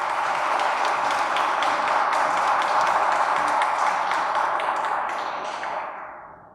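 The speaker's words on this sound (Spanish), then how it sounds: "La recibimos con un fuerte aplauso." An audience at a women's conference on access to justice gives loud, sustained applause that fills the room, then fades away over the final second.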